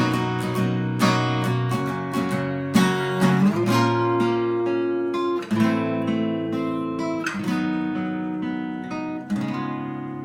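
A guitar plays a descending walk-down of strummed chords, each struck clearly and ringing out in a steady, moderate rhythm.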